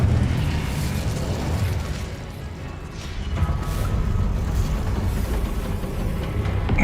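The Incendio fire spell in Hogwarts Legacy roars as a continuous, loud burst of flame and rumbling, dense and sustained for several seconds with a slight dip midway.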